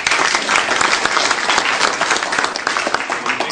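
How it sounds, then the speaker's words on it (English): Audience at a school district foundation breakfast applauding in a dense, steady burst of many hands clapping, loud and continuous throughout with no talk over it. "By round of applause, do you think that Pat killed Cole?"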